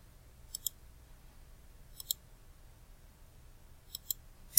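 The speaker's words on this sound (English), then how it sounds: "we're going to double click on that" A computer mouse gives faint paired double clicks, three crisp pairs spaced a second or two apart with a final click at the end, over a quiet low hum.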